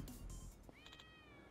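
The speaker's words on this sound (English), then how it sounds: "Fickle cat. Meow." A single drawn-out cat meow from a Yakuza video game rises and trails off over low game background sound.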